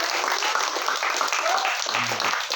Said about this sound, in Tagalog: Yung palakpak ng magbabagong taon.